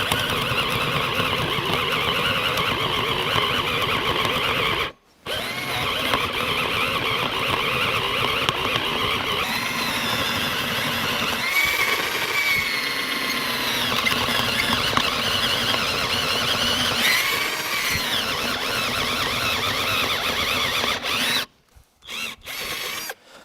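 A cheap cordless drill whines and grinds steadily as it bores, with the pitch shifting under load and a couple of brief pauses near the end.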